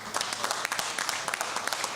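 A live comedy audience applauds in a dense, steady patter of many hands, moderately loud and even throughout the short stretch, with no voice rising above it.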